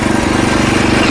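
Mini power weeder rotavator engine running in reverse gear, a loud, close, steady chugging drone with a rapid regular pulse and no pauses.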